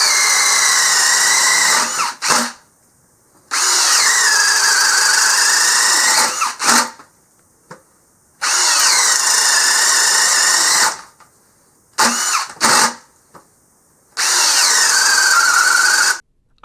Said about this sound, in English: the brushless drill had no issues putting through the 1 1/8 inch speed bit